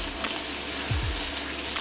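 Green beans searing in a hot round-bottom wok, a steady loud sizzle and hiss throughout, close up, with a brief low scrape or thump midway.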